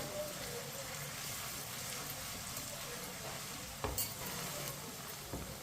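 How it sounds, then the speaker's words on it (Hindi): Onions sizzle steadily in a pan while a spoon stirs and scrapes through them, with a couple of faint clinks. "प्याज को इसी तरह चम्मच चलाते हुए ब्राउन कर लेंगे, हल्का सा, ज्यादा ब्राउन नहीं करना।"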